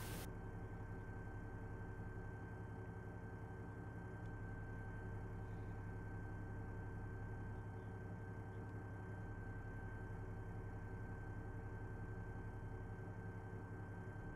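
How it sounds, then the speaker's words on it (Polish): A vehicle engine idles in the Arma 3 video game, a steady low rumble holding evenly and alone at moderate level throughout, with no talk over it. "Zgasz ten silnik na razie."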